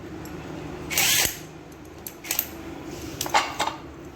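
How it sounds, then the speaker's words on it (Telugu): A wrench works on the clutch cover bolts of a BMW R 310 motorcycle, giving a few short metallic clicks and rattles, close by, separated by quiet pauses. "ఈ 3 బోల్ట్లు అనేవి 10 నంబర్ ఓపెన్ చేసుకుని ఈ 3 బోల్ట్లు ఓపెన్ చేయాలి ఫ్రెండ్స్"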